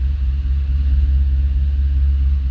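A 2010 Chevrolet Camaro SS with a Nickey FLP-TT twin-turbo prototype setup and extra mods idles up close, a loud, steady, deep rumble throbbing evenly throughout with no voices.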